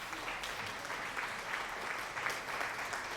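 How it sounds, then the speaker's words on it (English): Steady applause sound effect played during a Twitch stream, a continuous bed of hand claps at moderate level running through the whole stretch without a break. "Thank you for the applause as well."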